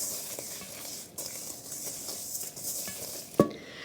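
Scallions and spices being stirred in a pan for cowboy meatballs, a soft continuous scraping and light sizzle with a sharper clank near the end.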